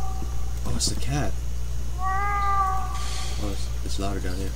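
A cat meows in The Last Door video game, a drawn-out tonal call rising and falling near the middle, with game ambience and a constant low hum and someone talking over it.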